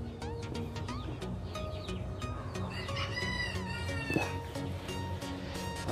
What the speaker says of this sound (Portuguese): Aqui tá umas galinhas curiosas aqui com galo polar que eu tenho.